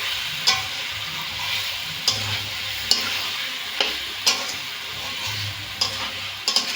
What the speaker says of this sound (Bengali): সব মশলাগুলো যাতে কাঁচা গন্ধ না থাকে সেইভাবে একটু ভালো করে আমি